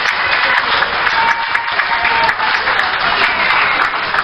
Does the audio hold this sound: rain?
no